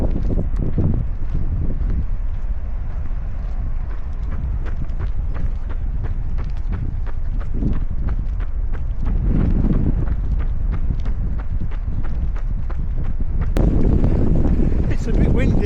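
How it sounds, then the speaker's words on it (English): Strong wind buffets the microphone at a seaside marina during a run, a steady loud rumble with rustling and irregular knocks throughout. "It's a bit windy."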